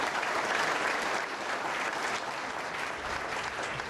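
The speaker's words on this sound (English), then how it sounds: "a nice round of applause for them would be." An indoor audience at a mayoral event gives a continuous, fairly loud round of applause for a New York restaurant family on its 100th anniversary, steady throughout with no talk over it.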